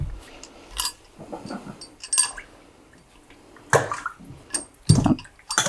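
Cotton fabric dipped into a tannin dye bath makes close, irregular sloshes, splashes and trickles of water in separate bursts, with quiet gaps between them.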